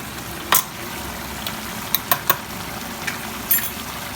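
Blended peanuts are stirred into masala frying in oil with yogurt for an egg korma, a soft steady sizzle broken by a few sharp spoon scrapes and knocks against the pan.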